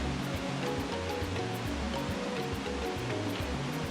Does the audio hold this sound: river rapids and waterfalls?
yes